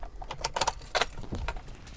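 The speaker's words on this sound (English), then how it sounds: "So I've got some Allen keys that I've got to get out" Metal Allen keys clink and rattle in a hand as they are picked out, a brief cluster of bright jangling taps, close and fairly quiet.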